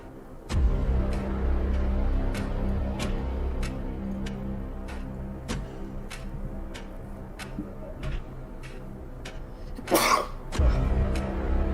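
A single sharp sneeze bursts out near the end, set against a steady ticking rhythm and low background rumble.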